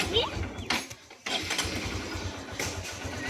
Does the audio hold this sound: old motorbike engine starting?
yes